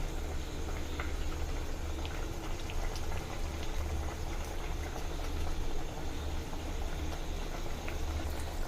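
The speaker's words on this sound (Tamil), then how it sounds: "மக்களை இப்போ பார்த்தீங்கன்னா நமக்கு நல்லா கொதிச்சிருச்சு" A pot of village-style fish curry with ground coconut comes to a steady rolling boil, bubbling continuously at a soft, even level with no voices.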